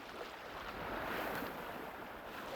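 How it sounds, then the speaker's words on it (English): Gentle waves lap steadily along a calm lake shoreline downriver from Niagara Falls, a soft continuous wash with light wind and no voices. "gentle waves caress a peaceful shoreline"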